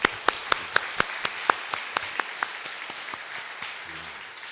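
A church congregation claps for its choir, a small group of sharp, evenly spaced claps close by that fade off gradually into quieter scattered taps.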